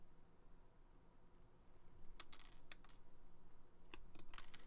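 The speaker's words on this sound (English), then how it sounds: "I need to cut these shorter. So I'll go ahead and I'm just going to give it a snip" Sharp snips cut through the wires of a network cable: several crisp, separate clicks spaced over a few seconds, close and fairly quiet, with no talking.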